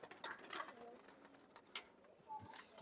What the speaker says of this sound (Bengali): আর এখানে এইটা একটা আছে কালদম কবুতর